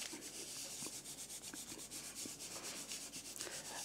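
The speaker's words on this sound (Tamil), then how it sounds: "ஸோ அது மேலே வச்சு அதை நல்லா ப்ரெஸ் பண்ணுங்கள். நல்லா தேய்ங்க அது மேலே." Photo transfer paper being pressed and rubbed down by hand onto a t-shirt, a steady dry rubbing texture with soft repeated strokes, fairly quiet and continuous.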